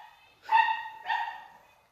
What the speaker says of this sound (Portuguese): Nossa, o pitbull tá latindo.